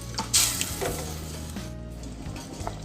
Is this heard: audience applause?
no